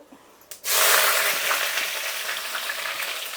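Mustard seeds spluttering and onions frying in hot oil, a sudden loud burst of sizzle and crackle that starts after a brief pop and holds steady, close and dense with fine popping throughout.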